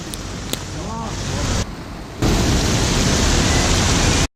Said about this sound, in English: We started the ride home again when it had stopped raining, but it started again.